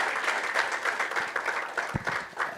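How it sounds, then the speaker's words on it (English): An audience at an ELP alumni gathering claps steadily, a dense, even wash of applause lasting throughout with no voices over it. "because you've applauded well"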